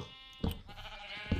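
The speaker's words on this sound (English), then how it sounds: "Ooh, my sheep are perfect." Sheep in Minecraft bleat twice, short nasal calls about a second apart against a quiet ambient game background.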